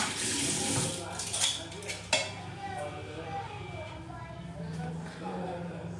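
Cups being washed under a running kitchen tap, with a steady wash of water and occasional clinks of dishware, while a person talks over it.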